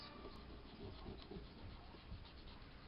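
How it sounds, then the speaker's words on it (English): An acrylic nail is filed at the corners, giving a soft, close rasping rub in short back-and-forth strokes, quiet and alone. "I'm just filing the corners and lining that nail up"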